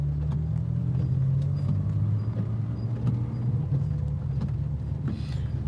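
An M4's engine runs steadily up close, a low continuous rumble and grind holding at an even level throughout.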